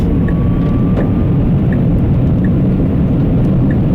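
Tesla Cybertruck driving on a road, heard as a steady, loud low-frequency rumble of road and wind noise with faint periodic ticks, no speech.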